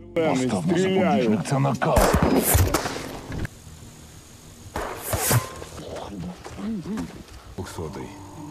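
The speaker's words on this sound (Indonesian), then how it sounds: "Raven pun dengan nekat melepaskan tembakannya" A sniper's gunshot in a film, heard as sharp loud bursts amid dramatic music, with a character's voice shouting and talking over the action.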